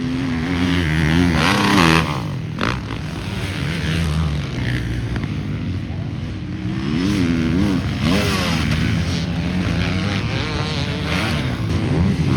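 Motocross motorcycles revving and accelerating during a pro pre-season race at Glen Helen, engines rising and falling in repeated surges, loud and fairly near.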